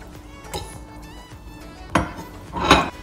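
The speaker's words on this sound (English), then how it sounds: "My God, ang hirap maghalo dito sa kalan." Utensil stirring food in a pan on a stove, a few sharp metallic scrapes and knocks at irregular intervals, close and fairly loud, with no talking.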